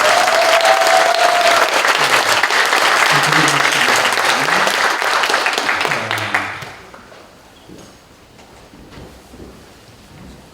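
A congregation at a church ordination thanksgiving service applauds, a loud, dense roar of clapping that runs about six seconds, with faint voices underneath, then drops off abruptly to quiet room murmur.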